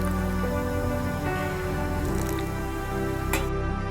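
Appe batter being stirred with Eno and water, producing soft wet squishing and dripping sounds over a steady background hum, with a brief sharp click near the end.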